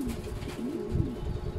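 A pet pigeon or dove, kept in a home flock where one bird has a cold, coos softly and steadily in a low, wavering warble, close by and with no talking.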